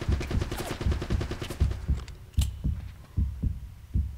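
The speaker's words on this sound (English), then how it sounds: "Oh, that's a turret!" Rapid automatic turret gunfire in the video game Uncharted: Drake's Fortune, a rhythmic stream of loud bursts that thins into separate spaced shots, with no talk.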